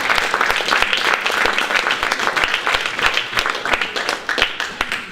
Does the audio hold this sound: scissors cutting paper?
no